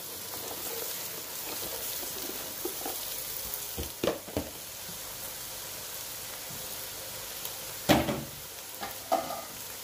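Onions fry and brown in a pan for chicken yassa, a steady, moderate sizzle, with a few louder scraping stirs standing out near the middle and toward the end.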